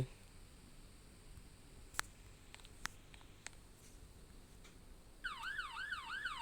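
Several sharp clicks, then a fire truck siren in the Roblox game Brookhaven starts a rapid, wavering wail for the last second, fairly loud and close, with no talk.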